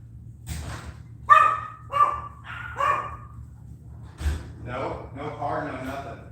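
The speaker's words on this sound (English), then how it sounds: "Shut up. These dogs." Several dogs bark in short, loud, close bursts, with a few scattered yips, while a low household hum runs underneath.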